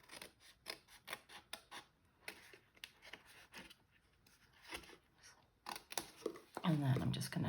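Scissors snip through card for a card tab. The cuts come as quick, close, papery crunches in uneven bursts, with a soft voice heard near the end.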